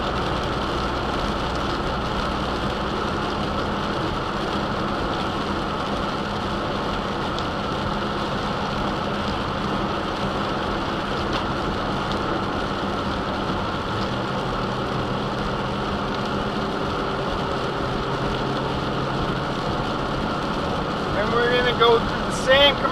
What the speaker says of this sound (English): Except it's raining out, so we drive a little bit safer during the rain.